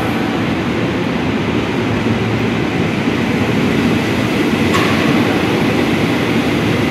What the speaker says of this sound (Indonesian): Ini udah berangkat ya dari stasiun Manggarai.